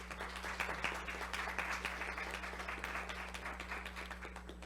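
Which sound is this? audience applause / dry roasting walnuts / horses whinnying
audience applause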